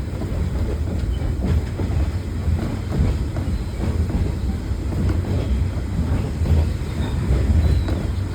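Ride aboard a caboose behind a Shay steam locomotive at a railway museum, with a steady rumble of rolling wheels and a faint rhythmic clatter of the cars. The noise is continuous and close, with no talking.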